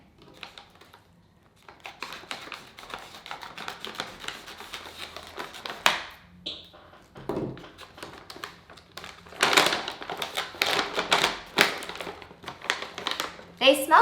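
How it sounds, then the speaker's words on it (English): Someone opens a bag of Innofoods keto crackers, giving a crisp, crinkly rustle of packaging in rapid irregular bursts that grow louder toward the end, with a person talking through parts of it. "I'm going to open up my bag and show you what the keto crackers look like"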